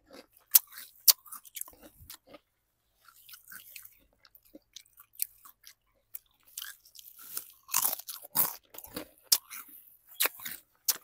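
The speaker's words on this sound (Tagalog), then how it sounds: "Tapos sobrang crunchy niya." Sour and cream kangkong chips are crunched and chewed up close, with crisp irregular bites and snaps in scattered bursts, fairly faint against a quiet background.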